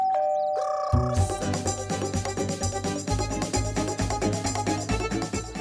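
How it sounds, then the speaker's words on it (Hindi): A doorbell chimes clearly near the start and then gives way to a rhythmic musical background score, in a Hindi children's TV show scene. "बाजी घंटी।"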